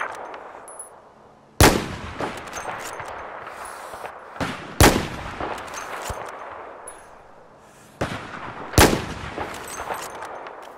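Video game gunfire rings out in four sharp, loud shots spaced a few seconds apart, each followed by a decaying echo over faint background game ambience, with no talk in between.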